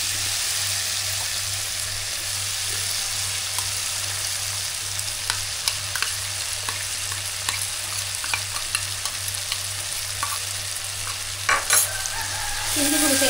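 Ginger garlic paste sizzles and fries in a pan for a spicy crab gravy, with steady loud sizzling and repeated scraping stirs of a spoon throughout, no talking.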